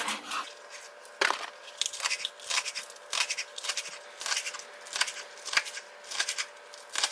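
A knife slices through green onions on a cutting board, separating the white parts from the greens, giving a string of crisp, close chopping thuds and crunches in an uneven rhythm.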